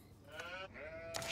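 Sheep in the Age of Empires 4 strategy game bleat in a few short, wavering calls, moderately close, with a quiet game backdrop and no talk.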